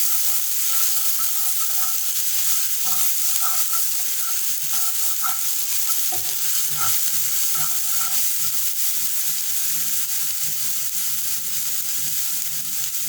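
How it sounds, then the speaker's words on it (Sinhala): Chopped garlic frying in hot oil, a steady loud sizzle and crackle throughout with occasional stirring clinks and scrapes against the pan. "තෙල් ටික හොඳට රත් වෙනකොට පොඩියට කපාගත්ත සුදු ලුණු ටික දාගන්නවා."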